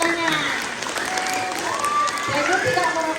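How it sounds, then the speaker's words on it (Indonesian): Schoolchildren and guests at an anti-smoking and vaping campaign launch applaud loudly and continuously, with scattered cheers and voices mixed into the clapping. "Ya, tepuk tangan."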